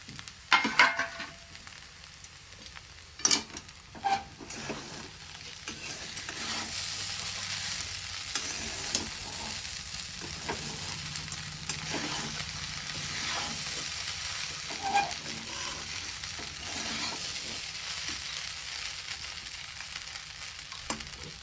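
Potato poha being stirred in a pan with chopped coriander and fried peanuts, giving soft, steady scraping and shuffling with occasional sharper taps of the spoon against the pan, close and fairly quiet, with no talking.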